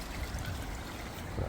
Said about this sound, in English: Still haven't taken the waterfall away.